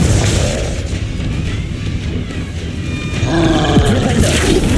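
A Confringo fire-blast spell from the video game Hogwarts Legacy bursts out as a loud, roaring whoosh and boom, with a second surge of rumbling energy building near the end.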